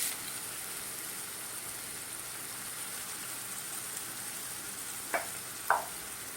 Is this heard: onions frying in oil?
yes